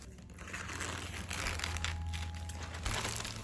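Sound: opening crinkly packaging of an ordered item

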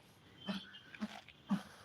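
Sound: dogs making noise near Varkala temple

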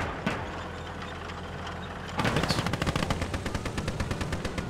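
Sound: machine gun gunfire in Gates of Hell video game

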